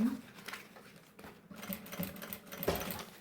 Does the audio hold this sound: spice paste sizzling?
no